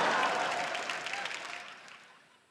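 A studio audience on a televised quiz show claps, starting loud and full and then gradually fading away over a couple of seconds.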